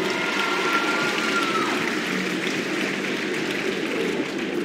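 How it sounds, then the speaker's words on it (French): Spectators at a show-jumping event clap for the riders and their horse, a steady wash of outdoor applause at moderate level with no voices on top. "On peut les applaudir."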